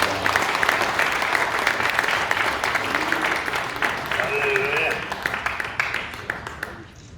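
Applause from the congregation at a regional presbytery's church New Year thanksgiving service sounds as a dense, sustained clatter of clapping that slowly fades toward the end, with a voice speaking over it.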